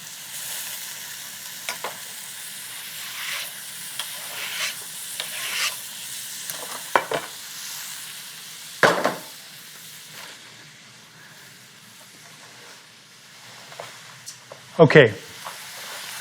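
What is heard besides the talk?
tomato and mushroom tamale filling cooking in a pan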